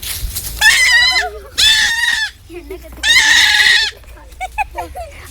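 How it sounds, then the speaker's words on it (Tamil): A young goat kid in a peaceful village bleats three times, loud, close and insistent, with softer sounds between the cries. "தூக்குனா கத்துன்னு கத்தி கதறிடுச்சு போங்க அந்த ஆட்டுக்குட்டி."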